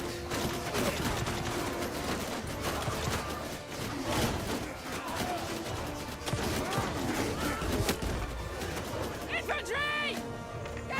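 Cannons, mortars and trebuchets firing in a Bannerlord battle, a continuous rolling barrage of booms and crashes with shouting battle noise, and a person talking over it.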